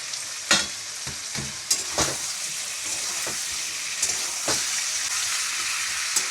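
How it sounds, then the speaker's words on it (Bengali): Chicken pieces with green peas and sweet pumpkin fry in a hot wok without added water, with a loud continuous sizzle and sharp scraping stir strokes every second or so. "এরকম করে আমি কিন্তু পাঁচ মিনিট ভেজে নেব"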